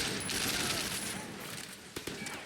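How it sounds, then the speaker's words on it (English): Rapid assault rifle fire in the Sleeping Dogs video game, a dense continuous burst of shots with a couple of sharper cracks near the end, heard under game ambience. "Oh, I got an assault rifle."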